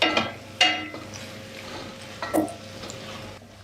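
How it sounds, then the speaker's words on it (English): White onions and mushrooms sweat gently in a pan over low heat, a soft steady sizzle throughout, broken by a few clinks and scrapes of a utensil against the pan near the start and midway. "slowly heat that through just to sweat them down a little bit"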